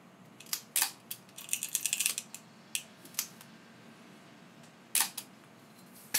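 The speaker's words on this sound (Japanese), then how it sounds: "この状態で、2、3回巻き上げ、スプールに巻きついていることを確認します。" Film advance lever on a Voigtlander Bessa R2A rangefinder camera being wound two or three times, giving sharp ratcheting clicks in short bursts, close and fairly quiet against a still background.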